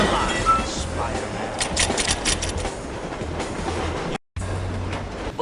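A train in the Spider-Man 2 video game rumbles steadily with rhythmic clattering and metallic clinks, a loud continuous roar broken by a brief dropout near the end.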